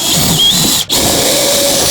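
A power drill drives a one-inch drawer front screw while a cabinet is built for a small bathroom, a steady loud whir with one brief break partway through.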